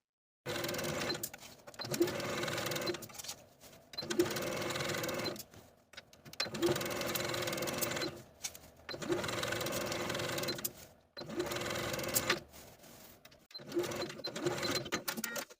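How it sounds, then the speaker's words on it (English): A sewing machine stitches bias tape around the armhole of a flutter sleeve top in repeated bursts, each lasting a second or two with short pauses between them, running close and steady with no talk. "Now I can sew the bias tape all around the armhole"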